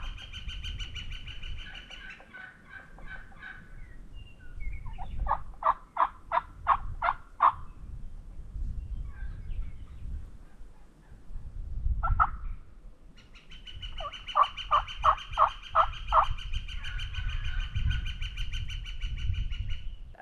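Wild turkeys gobble near a creek in two loud rattling bursts a few seconds apart, with softer clucking and calling between them over quiet outdoor background.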